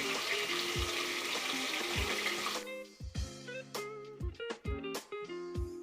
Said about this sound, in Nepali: अब यो प्यानमा बिर्को लगाएर केही मिनेटको लागि लो फ्लेममा मजाले पाक्नको लागि छोड्दियौ।